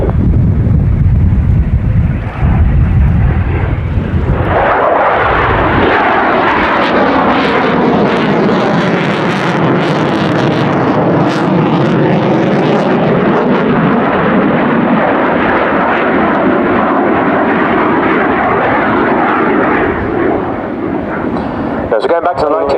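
Belgian Air Force F-16 fighter jet flying at the RIAT 2017 airshow, a loud roaring engine sweeping past with a rising and falling tone, buffeted by wind noise on the microphone.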